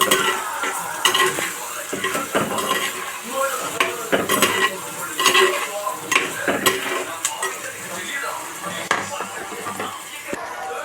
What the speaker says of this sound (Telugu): తర్వాత ఎండు చేపలు వేసి బాగా కలబెట్టాలండి.